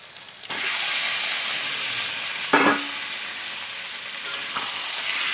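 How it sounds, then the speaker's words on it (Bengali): Marinated chicken with turmeric and spices sizzles loudly in a pan for homemade chicken biryani, a steady frying hiss that starts suddenly and holds, with one brief louder stir partway through. "ভালো করে আমি চিকেনটা কষিয়ে নেব"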